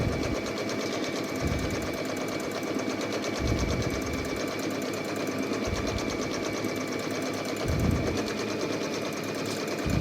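A sewing machine darns a hole in denim jeans with a continuous close, loud mechanical whir and rapid needle chatter, running steadily back and forth without a break.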